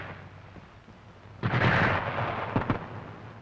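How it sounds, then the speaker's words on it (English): A Schmeisser submachine gun lets off a loud cluster of bursts in an outdoor infantry squad exercise. The firing comes in a sudden dense volley lasting about a second, followed by a few quieter sharp cracks over a low background rumble. "the sergeant prepares to fire confusing bursts with the Schmeisser"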